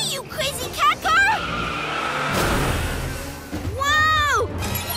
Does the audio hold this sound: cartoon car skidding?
yes